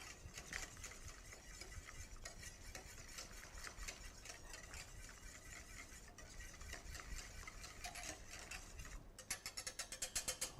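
Strawberry granita mixture being stirred steadily in a bowl, a continuous scraping, whisking churn that runs throughout, quickening into sharper rhythmic strokes near the end, with no talking.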